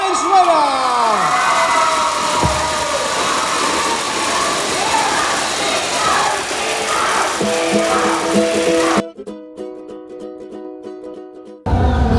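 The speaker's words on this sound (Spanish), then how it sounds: "Le aplaudimos fuerte a Rutilio Bacasegua Valenzuela." An audience at a singing event cheers and claps, a lively wash of applause with shouts and whistles, before music with a bright keyed melody takes over and the crowd noise drops away.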